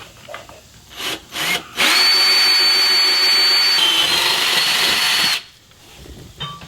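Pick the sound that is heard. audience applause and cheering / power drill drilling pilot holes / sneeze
power drill drilling pilot holes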